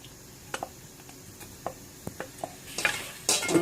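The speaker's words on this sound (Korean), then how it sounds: "거기다가 이제 이거를 넣고 돼지고기 아까 양념한 거를 넣고 볶아면 돼" Marinated pork stir-fried in sesame oil in a thick, preheated pot over high heat: scattered light clinks and scrapes of a utensil, building into a louder sizzle toward the end, with no talking.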